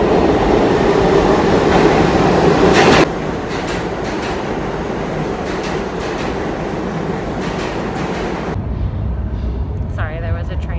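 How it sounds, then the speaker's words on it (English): Subway train in New York City rumbling past, a loud steady roar with rail clatter that drops slightly after a few seconds, then fades to quieter ambience with a voice near the end. "there was a train that was passing and you can't hear anything"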